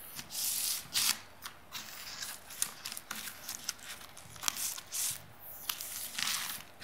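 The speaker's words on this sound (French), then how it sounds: "retire lentement le film du ruban adhésif" Protective film is slowly peeled off the adhesive tape of a foam spacer strip while laying a laminate floor, giving a series of close, faint crackling rips and sticky tearing bursts with short pauses between them.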